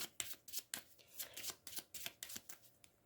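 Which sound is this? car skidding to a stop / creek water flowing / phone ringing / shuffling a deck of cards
shuffling a deck of cards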